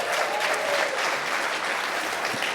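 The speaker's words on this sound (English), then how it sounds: "So let's have a round of applause for Irving's daughter." A keynote crowd at ChefConf 2015 breaks into loud, continuous, sustained applause that fills the hall.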